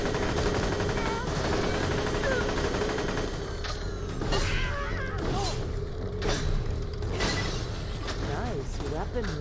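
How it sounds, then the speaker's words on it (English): Shock bolt shotguns firing in the video game Borderlands: The Pre-Sequel, with repeated sharp blasts and crackling bursts over a constant dense wash of game noise and music, while someone talks over the action. "Shock bolt shotguns, man."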